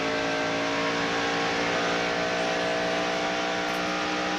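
A 1992 NASCAR stock car at full speed down the Atlanta Motor Speedway straightaway, its engine a loud, steady high-pitched drone with sustained harmonic whine, no voices over it.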